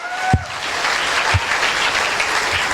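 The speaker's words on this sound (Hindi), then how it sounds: "जोरदार ताली होनी चाहिए" Audience at a women's empowerment speech event breaks into sustained applause, an even wash of many hands clapping, with a couple of sharp nearby claps at the start.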